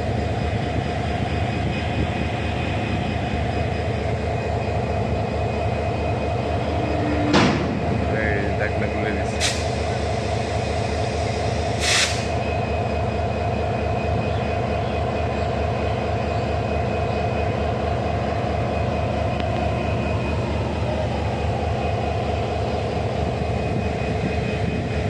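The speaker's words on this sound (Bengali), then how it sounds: "পুরো ট্রেনটা এই সার্কেলের মধ্যে ঘুরাবে।" A train engine on a railway turntable gives off a continuous heavy mechanical rumble with steady hum and clanking, with a few sharp metallic clacks and squeals over it while people talk nearby.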